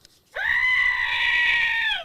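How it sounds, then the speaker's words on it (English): A screaming pickle noise toy lets out one loud, sustained shrill scream lasting under two seconds, alone and close. "I have a screaming pickle and a yodeling pickle."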